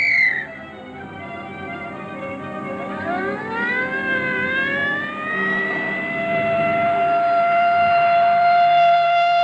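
A loud siren wails and rises in pitch, then holds a steady drawn-out tone over a rumbling vehicle engine, close by.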